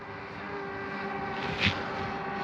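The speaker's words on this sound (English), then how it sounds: "The drone is coming down and the camera is facing straight out." A Hubsan Ace 2 drone descends, giving a steady, tonal motor whine at moderate level throughout, with a brief faint knock near the end and no talk.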